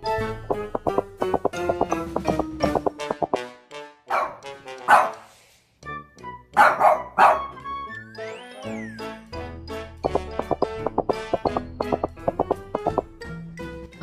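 A few short dog barks in quick bursts mid-way, set between stretches of light, bouncy instrumental music.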